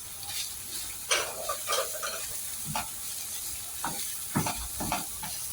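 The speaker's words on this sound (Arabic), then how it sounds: "هسه هاي كملت قلي" Chopped onion and celery sizzling in a small amount of fat from rendered meat in a pan, a steady close hiss with scattered stirring scrapes and clicks running through, with no talking.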